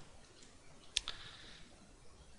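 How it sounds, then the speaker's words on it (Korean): A pair of quick, faint computer clicks from a mouse and keyboard arrow keys while working in Maya 3D software, close by in an otherwise quiet room. "키보드 화살표를 누리면서좀조절하고있습니다"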